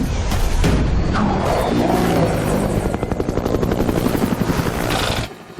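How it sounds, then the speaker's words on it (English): A helicopter's rotor thumps and engine roar fill the scene, with heavy crashing impacts and a loud, chaotic rumble before it cuts off abruptly. "pretty realistic on how a helicopter probably would have crashed in that scenario"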